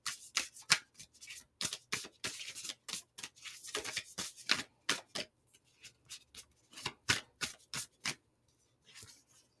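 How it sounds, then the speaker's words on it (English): Tarot cards being shuffled by hand in a tarot reading, a close series of crisp riffling and flicking bursts with brief pauses between, fairly quiet and with no talk. "Pull a couple."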